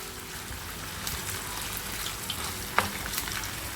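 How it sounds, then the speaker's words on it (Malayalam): Prawns fry in hot oil with a steady, close sizzling hiss throughout and one sharp spitting pop near the end, without any voices. "ഓയിൽ നന്നായി ചൂടായിട്ടുണ്ട്. അതിലേക്ക് ചെമ്മീൻ ചേർത്തിട്ട് ഫ്രൈ ചെയ്തെടുക്കാം."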